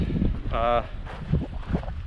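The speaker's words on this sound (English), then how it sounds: "It's incredibly windy right now, which you probably can hear." Strong wind at a remote Big Bend campsite buffets the microphone with a steady low roar and gusts, while a brief voice-like tone cuts through partway.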